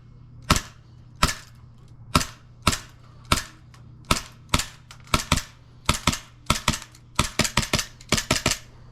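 An airsoft pistol fires through a magazine: sharp, snappy pops come one by one at an uneven pace, then in quicker clusters toward the end, close and loud with no talking.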